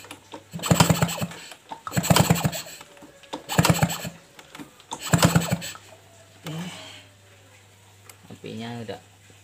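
A Suzuki RC motorcycle with hard-starting trouble and weak ignition is kick-started four times in a steady rhythm with its spark plug out; each kick gives a loud mechanical cranking burst that does not fire, followed by quieter handling noises.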